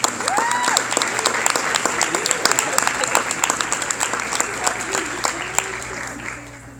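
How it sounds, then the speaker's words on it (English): Audience applause at an education summit after a keynote, many hands clapping steadily near the stage with individual sharp claps standing out, while some voices talk and call out over it before it fades at the end. "So let's give Evie another round of applause"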